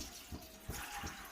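Water pours from a glass into a pressure cooker holding black chickpeas, a soft continuous splashing and trickling with faint rhythmic sloshes, quiet and close.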